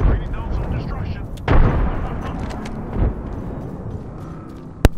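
A grenade explodes in a video game with a sharp, booming blast, followed by a smaller burst shortly after and a final crisp crack at the end, over steady game ambience with someone talking.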